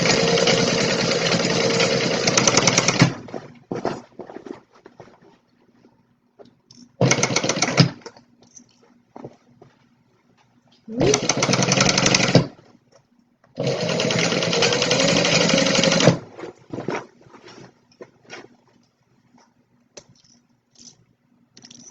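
A sewing machine stitches through a thick tote bag in several loud, steady bursts of whirring, separated by short pauses and brief quick runs for backstitching.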